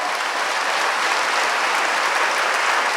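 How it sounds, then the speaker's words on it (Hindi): Sustained audience applause fills a church gathering during a Hindi sermon, a dense, steady wash of clapping from many hands that stays loud and even from start to finish with no speech over it. "जोरदार ताली बजाओ।"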